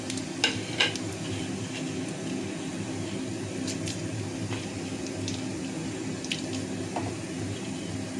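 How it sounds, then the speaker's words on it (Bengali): Whole spices, cumin, dried chilli, cinnamon, cardamom and bay leaf, sizzling in hot oil, a continuous low crackling hiss with a few sharp ticks and scrapes of stirring early on and scattered through. "জিরে, শুকনো লঙ্কা, দারচিনি, এলাচ আর তেজপাতা। এটা আমি তেলের মধ্যে দিয়ে দেবো।"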